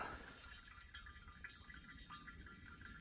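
Water trickles from a camper drain line into a bucket, a steady faint splashing with small drips running continuously throughout, fairly close.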